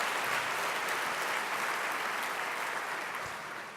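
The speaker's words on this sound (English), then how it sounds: "Yeah, you can clap on that." An audience at a State of the City address breaks into dense, sustained applause, a broad wash of many hands clapping that holds steady and then tapers slightly near the end.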